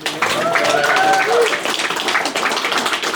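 Wedding guests clap for a newly married couple right after the kiss, a burst of applause with cheering voices and talk mixed in, fading slightly by the end.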